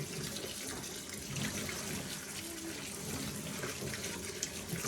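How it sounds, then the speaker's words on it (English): Green beans being washed for pickling under a running tap, a steady, close splashing rush of water into a sink that continues without pause throughout. "I'm gonna wash them real good."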